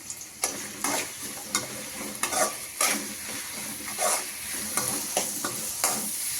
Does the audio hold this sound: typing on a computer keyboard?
no